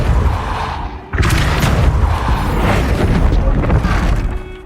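The Depulso spell is cast in the Hogwarts Legacy video game, a dense burst of magical force that thumps in sharply after a second and rumbles on loud and close, with no talking.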